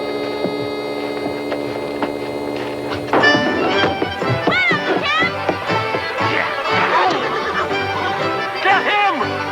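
A horse whinnies amid a busy Western scene from a 1979 film, with a constant mains hum underneath, a quiet opening, then louder layered action and bursts of voices.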